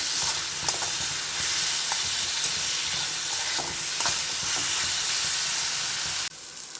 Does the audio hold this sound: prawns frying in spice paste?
yes